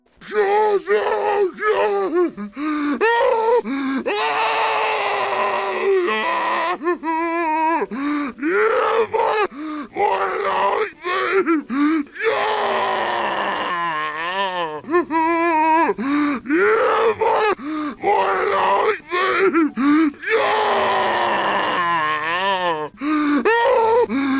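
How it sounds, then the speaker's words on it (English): Guttural headcrab zombie groans from a Half-Life 2 Episode 2 video game, with grunts and gasping wheezes repeating one after another, loud and close, with strained, warbling moans and short pauses between them. "when you encounter a headcrab zombie, they sound like this"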